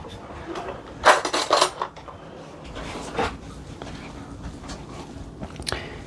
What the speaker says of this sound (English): We're going to mix, mix, mix.